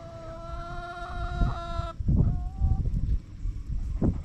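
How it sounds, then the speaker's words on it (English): Chickens and a rooster kept in a backyard coop with nesting boxes, clucking and calling close by, with a sustained harmonic tone in the first half that cuts off partway, followed by scattered short clucks. "look at all these little chickens outside"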